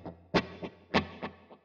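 Electric guitar through a Line 6 Helix preset with hall reverb, a few picked notes at regular intervals, each decaying into a wide reverberant tail, no talking.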